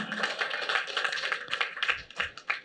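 Audience clapping at the Inspector Surya first look launch event, a steady patter of many hands filling the room without pause, fairly close and busy.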